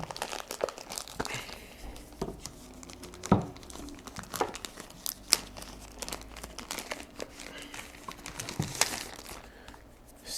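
A tough plastic bag packing a smart telescope camera is ripped open by hand, giving a close, continuous run of crinkling and tearing with sharp crackling bursts throughout.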